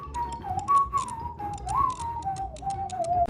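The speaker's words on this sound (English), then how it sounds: "He's literally whistling while a piglin is building a Nether portal" Someone whistles a wandering tune during a Minecraft speedrun recording, one clear sustained melodic line that slides up and down, with faint clicking game sounds underneath.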